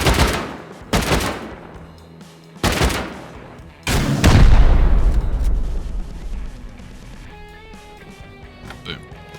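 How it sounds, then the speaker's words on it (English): Base raid in Rust with explosive charges and rockets: three sharp, loud blasts in quick succession, then a heavier, booming detonation with a long rumbling tail that fades out slowly. "I'm just going to 8x blow and then rocket this."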